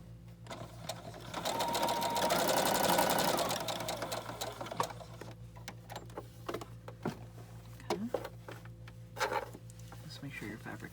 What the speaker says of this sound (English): Make sure your fabric is out of the way so you're not sewing any pieces you don't want to sew.